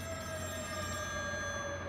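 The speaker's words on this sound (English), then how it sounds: "Is the phone ringing?" Telephone ringing inside the game Still Wakes the Deep, a steady continuous tone with sustained high harmonics held for the whole moment over a low background hum, fairly quiet and with no voices.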